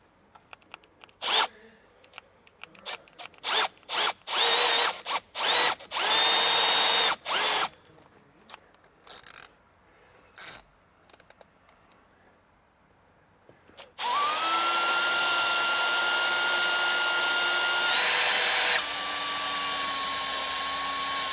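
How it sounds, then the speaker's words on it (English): Hand drill boring a hole with a step bit to mount a brake controller button in a 2019 Chevrolet, heard as a run of short bursts, then a long steady whining spin near the end. "So now we're going to get the hole drilled here so we can get our brake controller button mounted."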